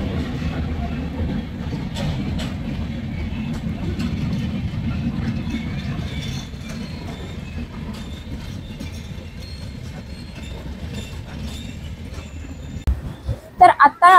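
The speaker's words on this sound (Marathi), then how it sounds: "ही बघा सावंतवाडी दिवा एक्सप्रेस आली आहे" Sawantwadi–Diva express train arriving at a station during the monsoon, a broad rumbling roll of rail cars with faint clatter that gradually eases, people talking nearby and a few sharp knocks near the end.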